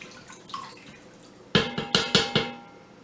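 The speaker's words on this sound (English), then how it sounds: "And I'm just going to stir it up a little bit." A spoon stirs lima beans with okra and ham hocks in an Instant Pot, making five quick, sharp knocks against the pot in a brisk row after a few faint earlier clinks.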